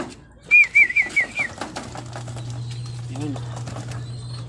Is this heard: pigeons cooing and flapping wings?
yes